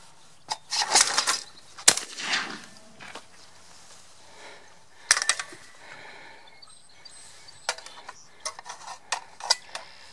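Fabarm XLR5 Velocity LR shotgun fired at orange domed clay targets outdoors, giving a few sharp separate reports spread across the stretch, moderately loud with quiet gaps between.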